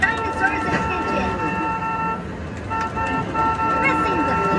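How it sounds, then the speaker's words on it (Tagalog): A car horn sounds in sustained tonal blasts, two longer honks separated by a short gap, over a busy mix of other noise at a dinosaur attraction ride. "Sound the car horn to get the dinosaur's attention."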